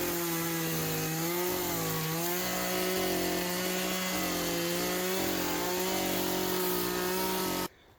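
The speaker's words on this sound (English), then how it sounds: "I am going to be using my chainsaw to cut that" A chainsaw cuts steadily through a wood log, roughly six inches thick, for a Swedish torch outdoors, its loud, continuous buzzing whine holding a varying pitch under load before cutting off abruptly at the end.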